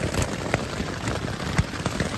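Hail and rain patter steadily on a tent during a long-distance hike on the Pacific Crest Trail, a dense close wash of drumming with a few sharper louder impacts standing out.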